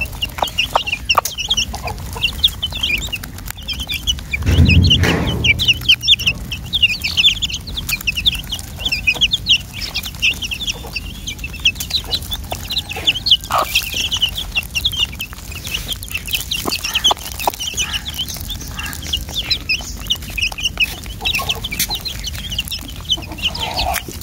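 Chickens and small chicks cluck and cheep steadily while pecking at millet feed, a continuous busy chorus of fowl calls close by with a brief louder rustle partway through.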